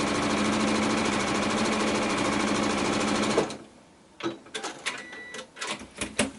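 A sewing machine runs in a fast, even mechanical patter for a few seconds while stitching a quilt block seam, then halts, followed by scattered clicks and fabric handling.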